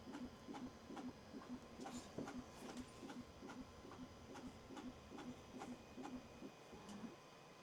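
A Bambu Lab A1 Mini 3D printer runs its extrusion flow calibration, giving a steady train of rapid, evenly spaced mechanical ticks and buzzing motor steps over a faint hiss, close and moderately quiet, with no talking.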